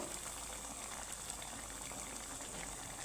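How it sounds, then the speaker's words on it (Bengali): Pumpkin and peanuts simmer over low to medium heat in a pan, giving a steady, soft bubbling hiss that runs evenly throughout without any voices. "বাদামের সাথে তো লো টু মিডিয়াম করে আমি একটু ফুটিয়ে নিব"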